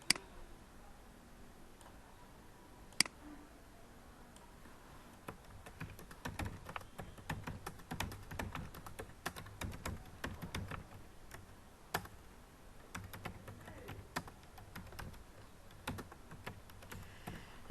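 Keys clatter steadily on a computer keyboard as text is typed into a website form, with quiet irregular clicks building to a busier rhythm and a sharp louder tap near the start.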